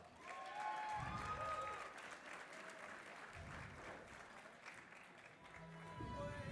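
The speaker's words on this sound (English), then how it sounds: "let's give our boxers a big round of applause" Applause from the crowd at a WBC boxing event for the two boxers, Enrique Soriano and Jorge Kerez, a steady, fairly faint wash of clapping that carries on throughout with a crowd murmuring beneath it.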